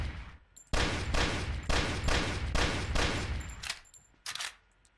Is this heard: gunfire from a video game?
yes